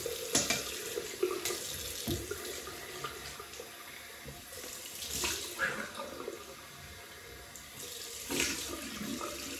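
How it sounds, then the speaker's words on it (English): Cold water runs from a tap and splashes in a sink for a shaving rinse, a steady rushing flow with intermittent sloshing and spattering bursts. "Right, cold water rinse."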